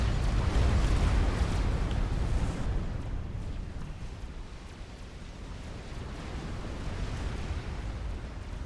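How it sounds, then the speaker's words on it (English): Battleships shelling a megalith in the strategy game Supreme Commander: Forged Alliance, a dense roaring wash of overlapping explosions and booms, loudest at first, then settling into a sustained rumbling barrage. "these battleships are just plowing damage into that megalith"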